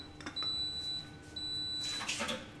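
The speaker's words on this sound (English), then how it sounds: "just the kettle saying it's at the temperature that is correct" Electric kettle giving electronic beeps on reaching its set temperature, thin tones repeating at short intervals against a quiet room with some clatter near the end.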